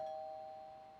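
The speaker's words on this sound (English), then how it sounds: "Whoa, doorbell's ringing." A steady electronic doorbell tone rings in the PC Building Simulator game, a single sustained chime that slowly fades over one second with no talking.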